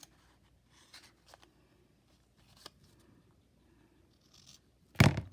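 Scissors trim fabric for a handmade tag, making a few quiet, brief snips and rustles close by, with a louder crisp handling sound at the end.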